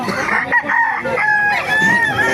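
A rooster at a poultry market crows loudly and close, one long strained call with other fowl clucking around it.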